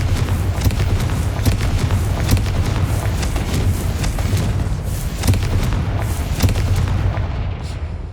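Fiery Confringo spell blasts in Hogwarts Legacy, a run of loud booming bursts that go on steadily over a dense rumbling bed of game sound, with no talk.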